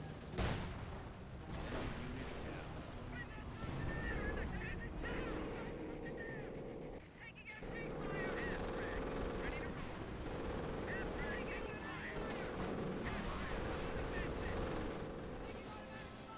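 Gunfire and artillery fire rumble through a co-op war video game, with dense bursts of shots and booming blasts layered under continuous background noise while a person talks over the action.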